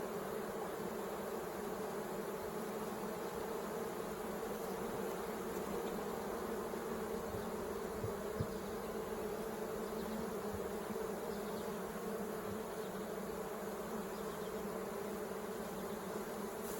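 A dense, steady hum of many bees buzzing around a beehive fitted with a bee escape, continuous and close with no talk.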